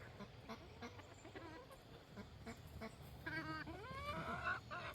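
Bantam chickens clucking and calling nearby among other farm animals, with a few rising squawks over a soft, steady outdoor background.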